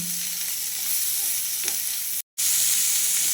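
Spiny gourd (kakrol) frying in a pan with spices, giving a steady close sizzle and hiss with faint stirring, cut by a brief silent gap near the end.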